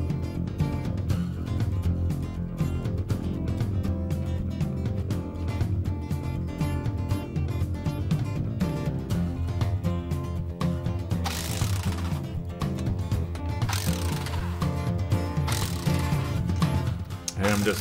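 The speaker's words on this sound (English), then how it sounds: "Just tightening the bolts" Bolts being tightened while an impact wrench is reassembled, heard as a continuous run of close ratcheting clicks and metallic handling, with someone talking over it.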